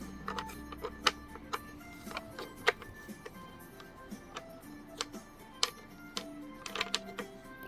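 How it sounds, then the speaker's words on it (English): Bolt being removed from a 3D printed steam turbine maze puzzle, producing quiet, irregular clicks, ticks and small plastic-and-metal rattles close up, with no one speaking. "So now we can take our bolt out of here."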